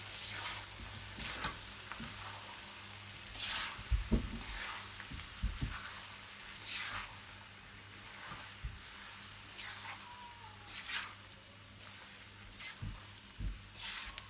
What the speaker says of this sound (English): Make a nice stir.